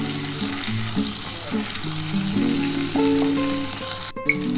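Mustard paste water is poured into a frying pan of food, raising a continuous hissing sizzle that runs under a melodic music track from start to finish.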